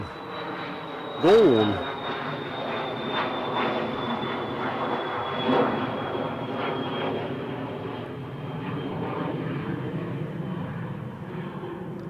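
An aircraft passes overhead at Newcastle International Airport with a broad, steady engine roar that lingers and slowly fades. A voice speaks one brief word early on.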